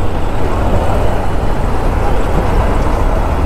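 Road traffic near Asalpha market makes a dense, continuous roadway roar with engine rumble, loud and close, with no break across the short stretch.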